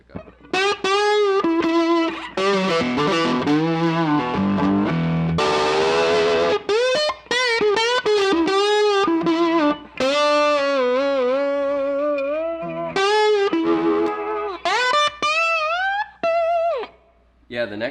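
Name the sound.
1961 Gibson Les Paul SG electric guitar, neck pickup, slide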